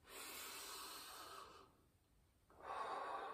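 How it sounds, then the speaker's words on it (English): A slow, deep inhale through the nose, close and quiet, with a short hush midway before the airy breath resumes, during a home spa oil massage routine. "heat up the oil, and then just breathe in"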